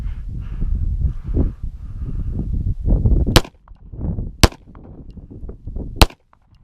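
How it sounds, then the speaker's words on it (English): A Daniel Defense H9 pistol fires 124 grain rounds in three sharp, loud, close gunshots spaced about a second apart, set against rustling and handling noise. "I'm gonna give it one shot here."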